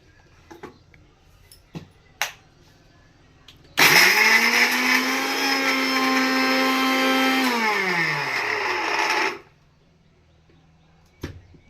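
A kitchen mixer grinder whirs loudly for several seconds, grinding ginger, garlic, cumin and coriander leaves into a fine paste, its motor pitch sagging as it winds down, with faint clinks before and after.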